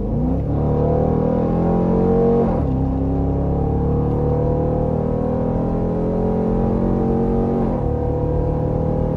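A Dodge Durango R/T HEMI SUV's V8 engine heard from inside while driving, a loud, steady deep drone that rises in pitch through the gears, with two clear shift dips along the way.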